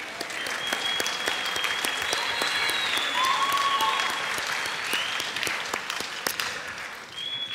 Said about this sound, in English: let's give your parents, those people that birthed you, a huge round of applause and thank them